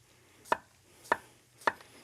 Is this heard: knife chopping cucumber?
yes